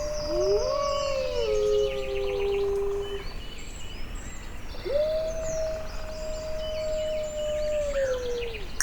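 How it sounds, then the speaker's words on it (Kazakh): A wolf howls twice in the wild, each a long, clear, sustained tone that rises, holds and falls away at the end. Faint bird calls chirp in the background. "Қасқыр."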